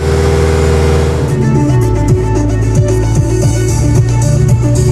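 A car driving through a town on a spring day, its engine and muffler droning close and loud, with low rumble and rising pitch sweeps as it revs, under music.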